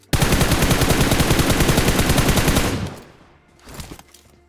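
Loud, rapid automatic gunfire from BGMI, a battle royale mobile game, rattles in a dense burst for about two and a half seconds, then stops abruptly, leaving a brief fainter tail with a short second flurry.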